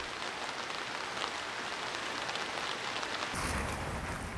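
Late-autumn rain falls steadily as a dense, even hiss of drops on surfaces, growing slightly louder and brighter near the end, with no voices present.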